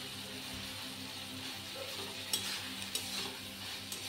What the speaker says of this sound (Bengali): ডাঁটাটা দিয়ে একটু কষাবো